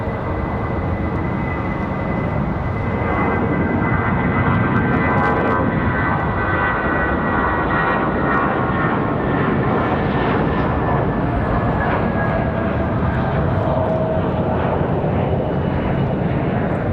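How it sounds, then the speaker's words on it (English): An Airbus A320 airliner taxis at Raleigh-Durham International Airport, its jet engines giving a steady, loud, broad roar with a slowly shifting whine that continues throughout, with no voices. "We've got that A320 on the move for United."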